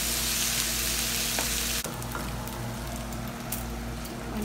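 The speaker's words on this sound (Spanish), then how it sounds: "Ahora sí vamos a agregar el tomate. Esto huele muy delicioso con el ajo." Tomato hits a pan of frying sauce with garlic, setting off a loud, close, crackling sizzle that jumps in intensity with a sharp burst partway through, then keeps spitting and hissing without any voices.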